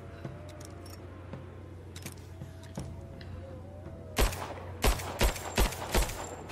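Gunfire in the video game Rise of the Tomb Raider: a quiet stretch with faint clicks, then five or six loud, evenly spaced shots close together near the end.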